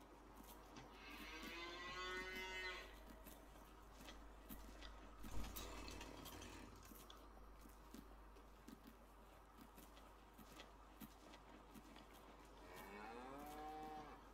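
Cows on a farm in the video game Farming Simulator 19 moo in two long, drawn-out calls, one near the start and one near the end, over quiet outdoor ambience with faint birdsong.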